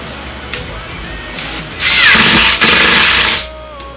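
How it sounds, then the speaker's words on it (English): Power drill pre-drilling mounting holes for an air conditioner mounting bracket, a loud steady whine lasting about a second and a half after faint background noise, with a brief dip midway. "Now she's going to pre-drill the holes for where it's mounted."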